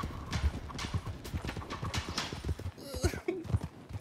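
Horse hooves clip-clop in a steady, close rhythm through a tense dramatic scene, with a brief whinny-like sound near the end.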